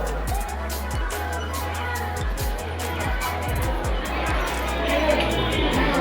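Crowd hubbub at a busy Lonavala tourist spot near a goddess temple, steady background chatter of many voices with passing traffic and low rumbling thumps throughout.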